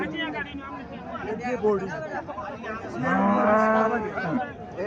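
Loud, drawn-out mooing from a cow and her one-month-old calf close by, one long call swelling in the middle, with people chattering in the background.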